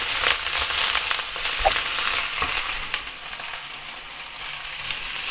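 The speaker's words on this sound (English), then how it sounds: "And the sweet corn. Give that stir about." Sweet corn and sugar snap peas fry in a pan as they are stirred, giving a constant crackling sizzle with scraping strokes and occasional sharp pops close by.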